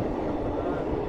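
A train rolls slowly across the Pamban rail bridge near Rameswaram, a steady, continuous low rumble filling the whole stretch without a break.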